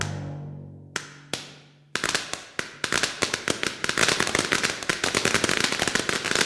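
Stored corn in a shed popping like firecrackers: a few sharp isolated cracks at first, then a dense, rapid, loud barrage of overlapping pops and bangs close by, with no talk.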